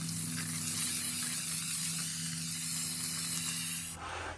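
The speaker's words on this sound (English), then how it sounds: "So I'm gonna shake it up, spray it on, and we'll just see what it does." A steady hiss of foam cleaner sprayed from an aerosol can runs for about four seconds under a low hum, then cuts off abruptly.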